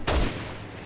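A single sharp sniper rifle shot from the video game Resident Evil 6, loud and close, with a short booming tail that fades away quickly.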